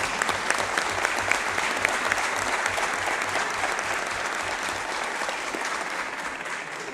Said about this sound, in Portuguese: pedir aqui a todos vocês uma salva de palmas para o presidente Arthur Lira